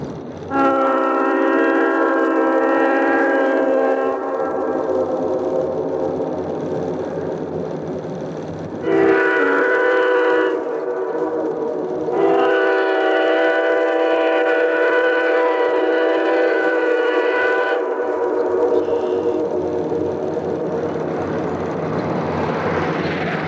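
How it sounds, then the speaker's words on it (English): A Conrail freight train on the Southern Tier Line near Great Bend sounds long, loud horn blasts repeated several times over its rumble as it approaches and passes close by. "There's a Conrail freight coming."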